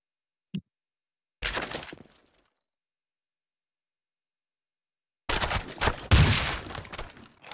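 Gunfire in the Blackshot first-person shooter during a competitive match: a short sharp report, then a brief burst, a long silence, and a louder sustained volley of shots with cracking impacts near the end.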